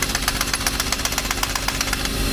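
Stromo cordless impact wrench hammering at a tightly seized nut, a loud, fast, even rattle of impacts running continuously throughout at close range.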